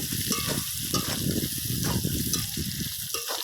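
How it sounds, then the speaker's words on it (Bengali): Pointed gourd pieces fry in a pan with onion and spice paste as they are stirred, giving a close, steady sizzling hiss with light scraping throughout. "এবারে পটলগুলো একসঙ্গে দিয়ে দিলাম কিছুক্ষণ নাড়িয়ে নেব"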